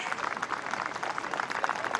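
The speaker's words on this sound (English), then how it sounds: "And the applause begins to build, an appreciative crowd that includes some rival coaches" Crowd applause at a women's golf tournament, a soft, somewhat distant patter of many hands clapping steadily with no voices on top.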